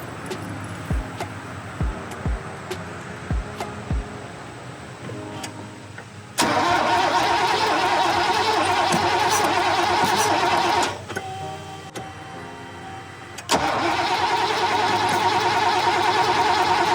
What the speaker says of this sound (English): give a squirt of just a tiny little bit of ether right in the intake there and give it a crank